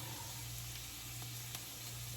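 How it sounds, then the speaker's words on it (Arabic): Butter sizzles faintly in a new frying pan, a soft, steady hiss that continues without a break and with no voices. "اوكي غندير زبيدة في المقلة جديدة."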